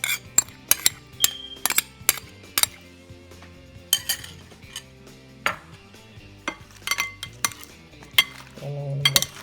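Salad being tossed with sauce in a bowl: irregular clinks and scrapes of utensils against the dish, sharp taps spaced through quieter stirring, close and clear with no talk.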